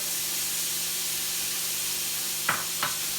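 Ground chuck frying in a pan keeps up a constant hissing sizzle, close and steady, and two quick soft clatters sound near the end as onion goes in.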